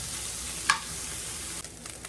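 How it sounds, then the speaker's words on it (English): Onions and peppers sautéing with ground meat for queso nachos, a soft steady sizzle with a sharp clink of a utensil against the pan and a few light scraping stirs, quiet and close. "Let them get all sauteed up in there and cooked in with that meat"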